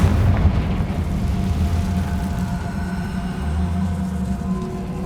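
A Confringo fire spell blast in Hogwarts Legacy, a single loud booming burst followed by a sustained low rumble that rolls on for several seconds without voices.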